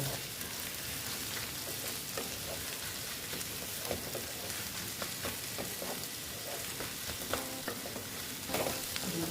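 Spices with Kashmiri red chili powder fry and get stirred in a pan, giving a steady close sizzle with soft scraping strokes of the spoon throughout.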